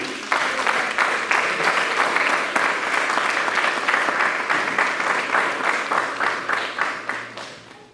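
A church congregation applauding together, a dense, sustained burst of many hands clapping that holds steady for several seconds before gradually fading.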